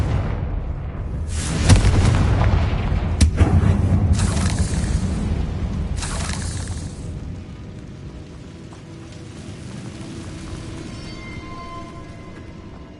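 Confringo blasting-spell explosions in Hogwarts Legacy on PS5: a run of heavy booms and crackling blasts, several loud bursts close together that fade into a rumbling, debris-filled tail, with no voices.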